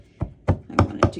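Four sharp knocks ring out on wood while crafting snowman decor, pressed down hard, spaced about a quarter second apart, close and fairly quiet with no talk.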